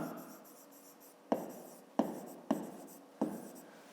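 Pen writing on paper during a fifth-grade math exercise, four distinct scratchy strokes in the second half after a softer stretch of faint writing, close and quiet with no voice.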